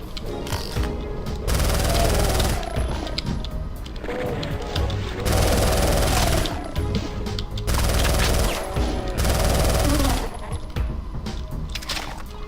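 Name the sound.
auto shotgun firing, from video game Doom mod Final Doomer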